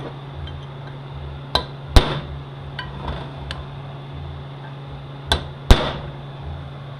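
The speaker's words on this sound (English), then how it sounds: "I'm going to stake our bushing in." A hammer stakes a bushing into a 46RE transmission during a rebuild, giving a few sharp metallic taps in pairs separated by quiet gaps. The taps are close and crisp over a steady low workshop hum.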